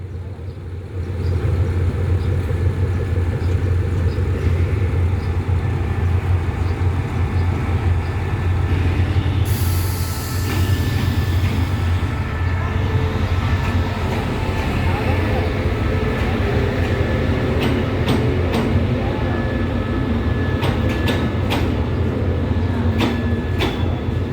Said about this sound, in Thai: เสียงเครื่องรถจักร เสียงเครื่องรถจักรเงียบสุดๆ นะครับผม